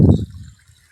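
A short gush of water pouring from a farm pump outlet, loud at first and then dropping to a low, faint trickle.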